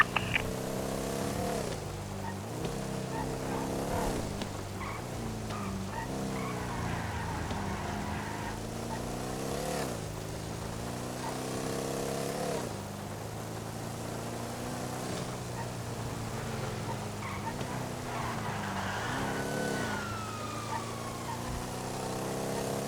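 Dominator GTT car in a video game, its engine droning and rising through repeated gear shifts in waves, a steady mid-level motor tone with faint background game sounds and no talk.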